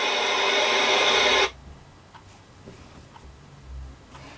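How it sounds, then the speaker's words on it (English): Loud broadband TV static hiss from a television in the interactive story game Hello? fills the first second and a half, then cuts off abruptly, leaving a quiet room tone with a few faint ticks. "Static greets you."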